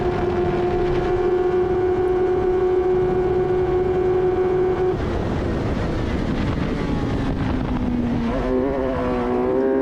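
A race car on track at Silverstone, heard from onboard with a loud steady engine drone that shifts pitch partway through, then tones sweep as the car snaps into oversteer through a corner, with wind rush over it.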